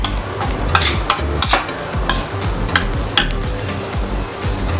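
Ragi and coconut mixture stirred in a pan over a medium flame, a spoon scraping in a steady rhythm with sharp clinks against the pan and a faint sizzle underneath, close and alone.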